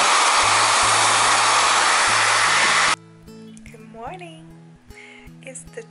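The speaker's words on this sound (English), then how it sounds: "So I take a blow dryer or fan and just blow dry it until it's dry." A handheld blow dryer runs loud and steady for about three seconds, blowing air to dry tape over a healing thigh-lift scar, then cuts off abruptly; talking follows in the quieter remainder.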